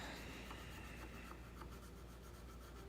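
Soft, steady rubbing and rasping of sandpaper on cedar wood, close by and quiet, with faint repeated strokes and no talking.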